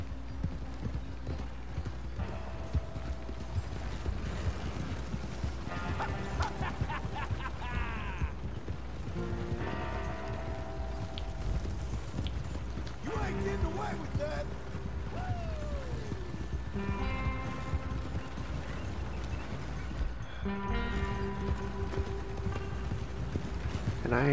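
Horse hooves clip-clop in Red Dead Redemption alongside creaking wagon mechanisms and clatter, a fairly quiet, busy mix of steady hoofbeats and wooden rattles, with brief voices in the background.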